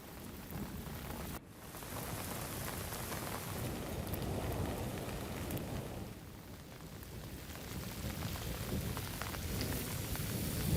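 Steady rain pours across northern India, in places such as Dharamshala, Haridwar or Assam during early monsoon showers, a dense continuous hiss of drops on surfaces with a brief dip near the start and no voices.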